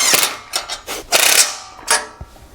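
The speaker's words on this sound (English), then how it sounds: "then we'll go and tighten them up with a 17mm socket and wrench" A socket wrench tightening trailer bracket bolts with a 17mm socket on a MicroSport Overland tent trailer: close, sharp ratcheting clicks in several quick back-and-forth strokes, loud and without talk.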